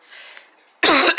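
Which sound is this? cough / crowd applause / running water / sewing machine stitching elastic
cough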